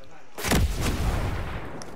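A single heavy gunshot from a video game, booming and close, with a long low rumbling tail that lingers for about a second and a half.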